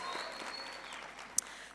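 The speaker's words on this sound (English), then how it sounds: "Can we get a very celebratory round of applause for that amazing performance?" Applause from an audience at a university graduation ceremony, a soft, distant patter of many hands clapping steadily through the short stretch, with no cheering or talking.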